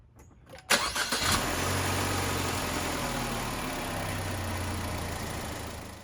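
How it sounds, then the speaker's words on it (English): A Chevy Trax or Buick Encore engine cranks briefly, catches, then settles into a steady idle, fairly close, with no voices. "So let's go ahead and start up that vehicle."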